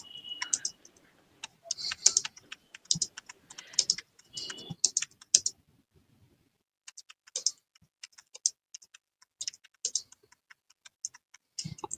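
Computer keyboard typing a question into ChatGPT, close bursts of quick clicking keystrokes with short pauses and a quiet gap midway, no talking.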